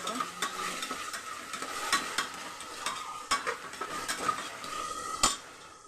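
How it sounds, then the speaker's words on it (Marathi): Potatoes and tomatoes sauté in a pan with a low sizzle under frequent metal spoon scrapes and clinks against the pan, stirring in an irregular rhythm throughout. "बटाटा पण टाकलं, चांगलं परतून घ्यायचं बटाटा"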